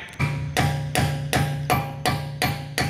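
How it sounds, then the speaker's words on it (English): Metal hammer blows strike a car part at a junkyard in a steady rhythm, about eight sharp ringing hits in quick succession, loud and close. "we're gonna hammer it on and then we're gonna try and twist it off"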